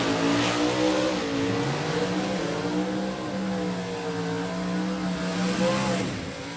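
A factory Super Stock E COPO Camaro drag race car launches and pulls away under power, its engine note rising steadily in a loud, sustained mid-pitched howl, heard from fairly close with no talk over it.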